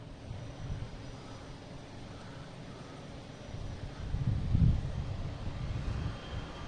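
JetBlue Airbus A320 airliner taking off at Boston Logan, a distant low engine roar that swells and peaks toward the end before easing slightly.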